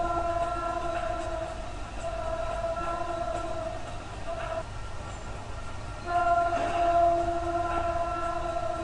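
Train speeding past in Sunnyvale, California, a rumbling pass with sustained tonal whine and horn-like bands, loudest near the end, under faint background voices.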